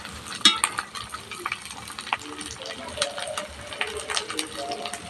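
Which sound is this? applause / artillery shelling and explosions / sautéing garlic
sautéing garlic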